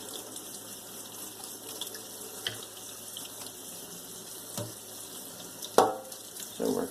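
Cold tap water runs steadily over cooked macaroni in a sink to cool it, a continuous hiss broken by a few clatters and knocks of the pot or colander.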